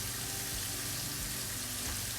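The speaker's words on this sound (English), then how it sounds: "I'm going to saute some onion in here." Sliced onion sautéing in a pan alongside chicken, a steady broadband sizzle and crackle that holds evenly throughout with no talking over it.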